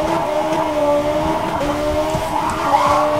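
An Ariel car in Need For Speed revs with a steady, loud engine drone that rises in pitch as it accelerates, with no speech over it.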